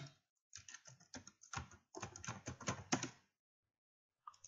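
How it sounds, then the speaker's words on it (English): Typing on a computer keyboard, a close run of quick clicking keystrokes in uneven bursts, ending in a short silence and then a couple more taps. "I'm starting off by typing in the leftmost cell what I want"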